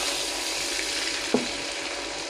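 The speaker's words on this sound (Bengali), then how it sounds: "এই যে জলটা ফুটছে" Water simmers in a pan of curry with turmeric, chili paste and potatoes, a continuous close bubbling hiss with one brief clink partway through.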